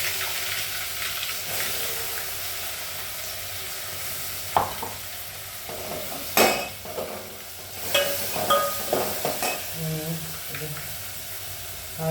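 Ground paste of ginger, garlic and fresh coconut sizzles steadily in a pan while a spoon clatters and scrapes in bursts toward the end, and someone talks over it.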